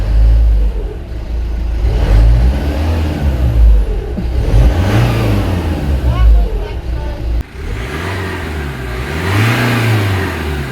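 A Citroen Berlingo engine with a poor-running fault revs repeatedly after an EGR cleaner spray treatment. Its loud surging rises and falls in several blips, and someone talks over the engine noise.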